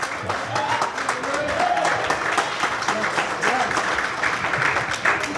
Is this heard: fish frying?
no